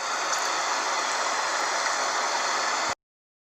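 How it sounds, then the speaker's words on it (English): Water flows steadily along a stream with a dense, even rushing wash, loud and constant, ending abruptly. "gargling sound of flowing water"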